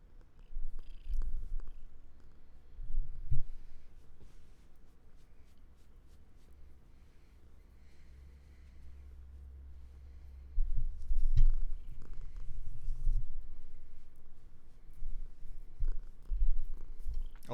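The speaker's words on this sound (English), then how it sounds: "You hear the kitty purrs?" A cat purrs close to the microphone, a low continuous rumbling drone that swells and fades over many seconds, with occasional light rustling and shuffling noises around it.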